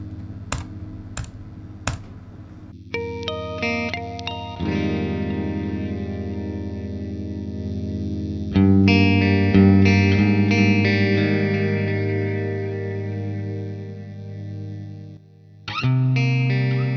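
An electric guitar played through the Neural DSP Archetype Gojira plugin with reverb rings out in sustained, shimmering chords after a few muted pick clicks, each chord decaying into a long wash before the next.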